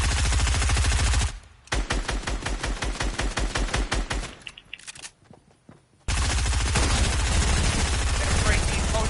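Rapid automatic gunfire rattles in the video game Fortnite, a long burst of dense shots that thins into scattered rounds and then breaks into a loud continuous roar, close and harsh.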